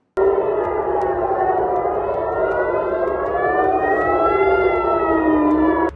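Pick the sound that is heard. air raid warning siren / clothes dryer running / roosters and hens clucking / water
air raid warning siren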